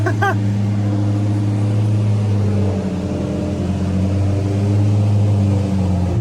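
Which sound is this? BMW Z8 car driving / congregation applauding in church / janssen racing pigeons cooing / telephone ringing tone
BMW Z8 car driving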